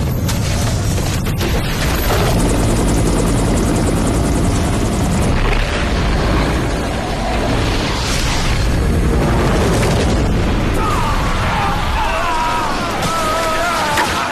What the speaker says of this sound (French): l'hélicoptère! Il vient dans notre direction. Il est trop proche du sol.